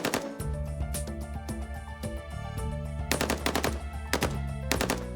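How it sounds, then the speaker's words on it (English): An AK-47 rifle fires during a weapons test, sharp loud shots in quick bursts, with a dense rapid volley near the end over steady low background music. "Then the AK-47."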